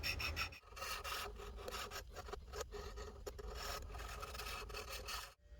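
A carved wooden logo is sanded by hand in steady back-and-forth rasping strokes, close and continuous, with short pauses between passes and no voices.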